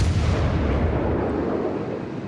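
Main guns of the battleship Bismarck firing, heard as a single heavy, rumbling boom that sustains and slowly rolls off across the whole moment, loud and close with no voices.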